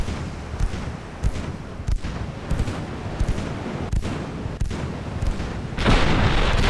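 3.4 inch naval guns firing in the warship game Ultimate Admiral: Dreadnoughts, a steady series of loud booming reports roughly every half second to second, heavy and rumbling, with no talk.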